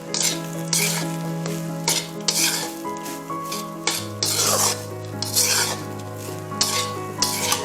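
Rice for a quick fried rice is stir-fried over high heat, with a steady sizzle under repeated close scraping of a spatula against the pan in an uneven rhythm. Faint background music plays, and no one speaks.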